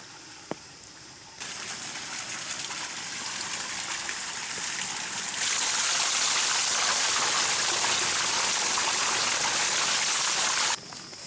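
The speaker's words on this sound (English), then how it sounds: "It's acting kind of like an overflow." Water gushes and splashes steadily through a pond overflow, starting softer then swelling into a louder continuous rushing flow before easing slightly at the end.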